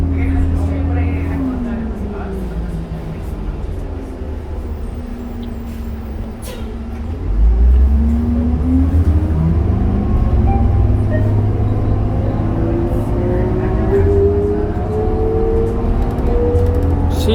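A Calgary Transit 2003 NFI D40LF city bus accelerates with a rumbling engine and a whining gear tone that rises and shifts in pitch. The bus surges louder partway through, with some voices in the cabin.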